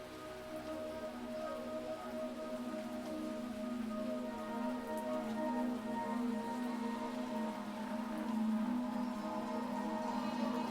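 Steady rain falling on a surface in a cold, dimly lit outdoor scene from a horror game, a continuous patter alongside a low tonal drone.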